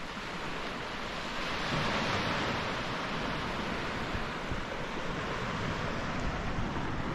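Sea waves murmur steadily on a beach at night, a constant soft wash of surf with a faint breezy hiss, close and even with no voices.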